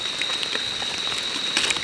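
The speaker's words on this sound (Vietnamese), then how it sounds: "Và bây giờ thì trời đang mưa." Rain falling steadily outdoors at night during a hunt for scorpions and beetles, a soft continuous broadband patter of drops on surfaces with a faint steady insect-like tone above, fairly close and even throughout with no talking.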